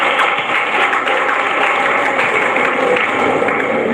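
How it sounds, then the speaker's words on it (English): A classroom audience at a women's college applauds a student, a dense, even patter of many hands clapping that holds steady for several seconds. "let's give a clap for her also"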